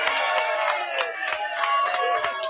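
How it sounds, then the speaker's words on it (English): Audience applause and cheering at a live show, a dense, steady wash of clapping and crowd voices that holds throughout at moderate loudness. "A big round of applause for yourselves."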